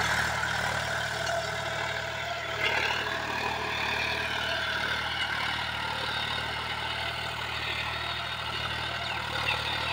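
A John Deere 5105 tractor engine labours steadily while pulling a cultivator through a field, a continuous close diesel drone with harmonic hum and no breaks, running alone without talk.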